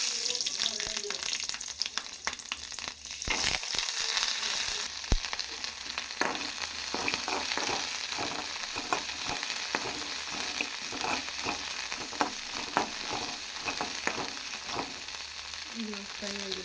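Garlic, green chilli, mint, ginger and curry leaves fry in hot oil for a tempering, a constant loud sizzle with crackles and brief stirring clatter throughout.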